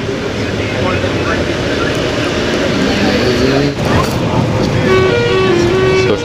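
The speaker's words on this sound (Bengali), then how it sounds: "এখন দেখতে পাচ্ছি আমরা খুবই জোরে টানছে আমাদের বাসটা।" An AC Volvo bus speeds along a highway at night, its engine and road roar loud and constant from inside the cabin, with a passing horn and tonal whines near the end.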